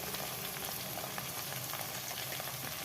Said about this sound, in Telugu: పచ్చిమిర్చి, వెల్లుల్లి, జీలకర్ర వేసి మొత్తం ఫ్రై చేయాలి.